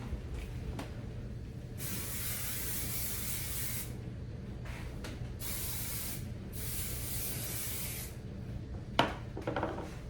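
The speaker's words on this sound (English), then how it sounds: "So I've sprayed the hairspray on it once. This is my second time." Hairspray hisses onto curly hair in several long, loud bursts, the first lasting about two seconds and the later ones shorter, with soft rubbing and handling noises between them.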